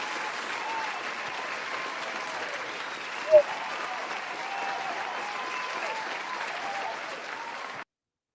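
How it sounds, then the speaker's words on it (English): Canned applause sound effect played on cue during a good-news show, a steady even wash of clapping for about eight seconds that cuts off abruptly, with one brief click partway through. "Where's my clapping sounds?"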